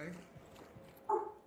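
A dog yaps loudly in a short burst near the end, after a stretch of people talking and ambient noise.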